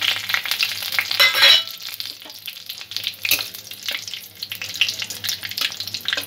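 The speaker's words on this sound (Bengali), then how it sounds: "ফোড়নটা সামান্য ভেজে নেব।" A tempering of black cumin, a dried chili and a broken bay leaf fries in hot oil, crackling and sizzling steadily up close, with occasional stirring, no voices over it.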